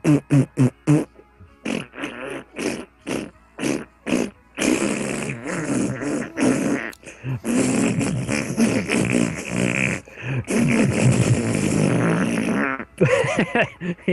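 Repeated fart sound effects fired off a soundboard, a run of short separate blasts early on, then long sustained, wet, sputtering farts filling most of the stretch, loud and up close with no talking.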